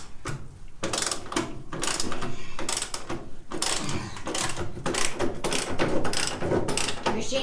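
A ratchet wrench works a bolt on a Ford Ranger while the fuel filler neck is being replaced, giving steady close clicking and mechanical rattling that runs through the whole stretch.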